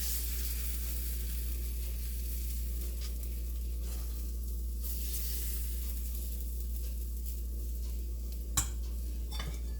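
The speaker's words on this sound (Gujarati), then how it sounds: "પછી જે ખીરું બનાવ્યું છે તે ખીરું આપણે રેડીશું." Gram flour batter poured into a hot oiled pan to make a besan pancake, sizzling in a steady, close hiss with a few soft scrapes and a sharp utensil knock near the end.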